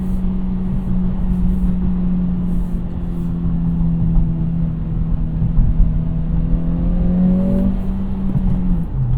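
Acura Integra with a limited-slip differential, its engine droning loudly at steady revs and then climbing in pitch, heard up close from inside the cabin with constant road and wind noise.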